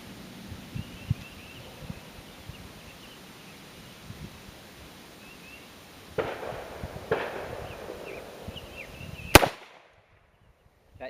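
A Taurus Deputy .45 Colt revolver fires a single loud, sharp shot of 255-grain lead flat-point ammunition outdoors near the end, after quiet rustling and a few softer handling clicks.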